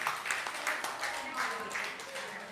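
A room of women clapping in a scattered, lively burst of applause, faint and slightly distant, with voices mixed in.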